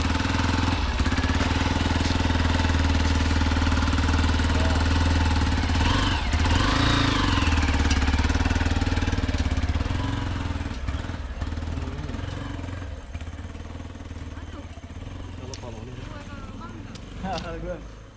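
Motorbike engine running nearby with a rough, throbbing idle that stays loud at first and then gradually fades, with people talking over it.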